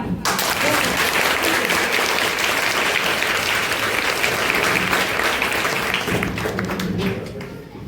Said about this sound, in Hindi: सलाम करने से पहले आपको खुद के लिए एक बार ताली।